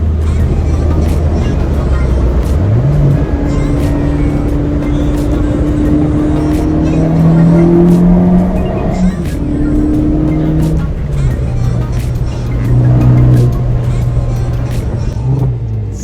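A Ford Focus ST drives through a tunnel, its engine loud and close, with rising tones as it revs up through the gears and other cars droning around it.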